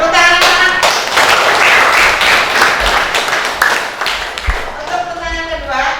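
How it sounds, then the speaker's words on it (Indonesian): A school class claps together in a loud, rapid, rhythmic burst filling the room, with voices audible near the start and end. "Terus tepuk tangan."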